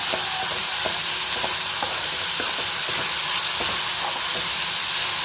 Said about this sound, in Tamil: கொஞ்சம் வெங்காயத்தை நல்லா வதக்கிக்கிறேன்